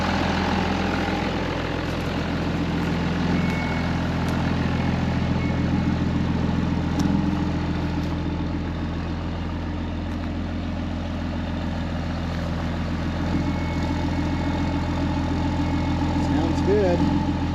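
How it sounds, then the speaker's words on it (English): A 2005 Ram 2500 diesel pickup idles steadily after a FASS lift pump replacement, a continuous low engine rumble that stays even and close throughout, with faint talk in the background. "Just gonna let this run for a little bit, see if I can clear up the engine some."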